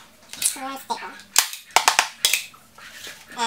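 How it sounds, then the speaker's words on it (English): Fingers tap a tightly stretched, freshly stapled canvas several times, giving sharp, close, drum-like thumps in an uneven series, with a voice heard briefly between them. "You want to hear a drum-like sound."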